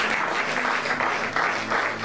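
An audience in a church Bible study session claps in a brief round of steady applause at moderate volume, with no speech over it.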